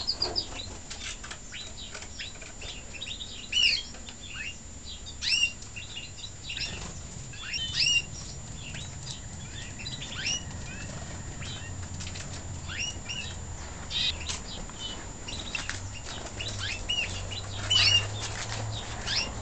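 Pet canaries in their cage give scattered high chirps and tweets, with repeated bursts of wing flapping and fluttering, near and moderately loud, irregular over a quiet background.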